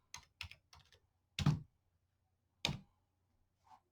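Several short, sharp keystrokes on a computer keyboard as a number is entered, a few quick taps followed by spaced single presses, close and fairly quiet with no talking.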